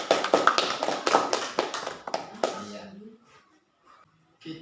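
A group claps together in a classroom lesson, a dense burst of applause lasting a few seconds before it quickly dies away, with a few faint stray sounds after.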